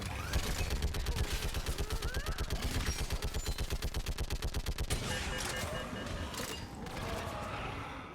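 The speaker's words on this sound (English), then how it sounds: "Keep firing!" Gunfire in Mass Effect 3 Legendary Edition, a long steady stream of rapid rhythmic automatic shots, loud and close, cutting off after several seconds into rumbling battle noise.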